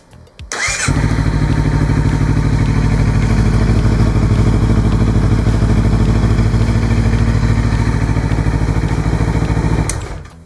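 A Honda CBR250RR motorcycle's starter whirs briefly before the engine catches and settles into a loud, steady, close idle, which then cuts off abruptly at the end.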